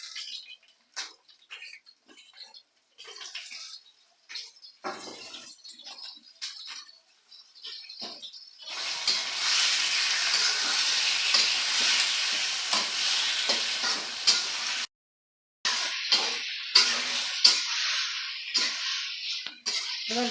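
Scattered clicks and pan knocks give way to a loud, dense sizzle as meat hits hot oil with fried onions for a pulao, the hiss swelling and cutting out briefly while stirring scrapes continue nearby.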